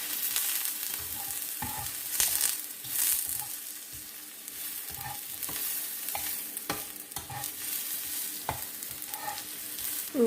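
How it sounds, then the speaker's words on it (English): Vegetables frying in oil in a pan, a steady close sizzle broken by repeated stirring scrapes and clinks throughout. "We just gotta let them fry, you know, just in the oil."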